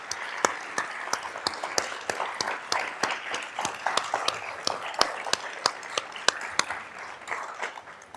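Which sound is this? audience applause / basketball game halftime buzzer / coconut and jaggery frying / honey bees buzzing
audience applause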